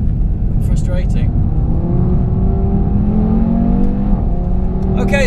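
Audi TT RS engine heard from the cabin, a steady loud drone with rising and falling revs as it spools through gear changes, with a voice talking over it.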